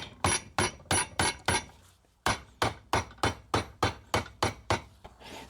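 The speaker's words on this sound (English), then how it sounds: "so now I'm gonna use the regular hammer just to tap it gently." A regular hammer taps on an engine mount part of a 2004–2009 Mazda 3 in a series of sharp, evenly spaced metallic hits, about fourteen strikes with a short pause after the first few, close and fairly loud.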